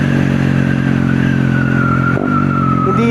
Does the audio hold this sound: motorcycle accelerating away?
yes